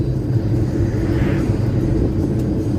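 A 1965 Chevy truck engine rumbles steadily while driving on the road, a dense low drone heard from inside the cab with no talk.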